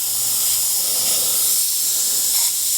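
An Iwata Vault HP.TH2 airbrush sprays paint at 30 psi in a round pattern, giving a steady, close, bright hiss that holds evenly throughout.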